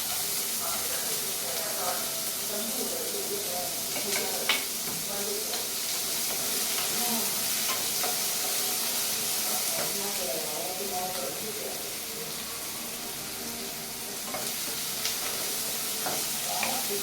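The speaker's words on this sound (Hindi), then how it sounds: "मैं डाल दी इसमें प्याज," Onions frying in a pan make a steady, hissing sizzle with occasional stirring scrapes, heard close and continuous for the whole stretch, with no talk over it.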